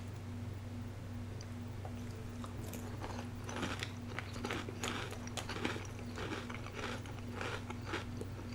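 Crunchy Magic Spoon cereal being chewed close up, with repeated crisp crunches and bites in an irregular rhythm over a steady low background hum, and no talking.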